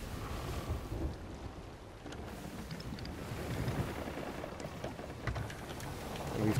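Stormy open sea in the pirate game Sea of Thieves, with a low, continuous rumble of wind and waves and churning water against a ship, steady and heavy throughout with a few louder surges.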